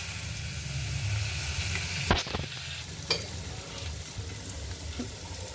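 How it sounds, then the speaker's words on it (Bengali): Paneer lightly frying in a pan, a steady low sizzle with a few sharp scrapes and clinks of a spatula stirring against the metal. "পনিরটা ভাজা হয়ে গেছে হালকা করে"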